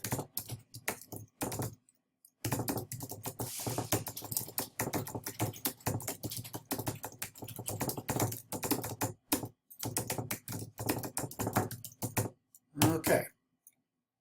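Steady typing on a computer keyboard as a paragraph is written, with dense, continuous key clicks close to the microphone broken by a few short pauses.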